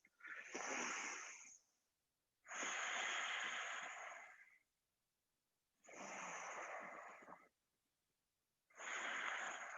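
Four slow, deep breaths during a gentle yoga stretch, each a long airy rush of inhale or exhale separated by quiet pauses, close and fairly soft.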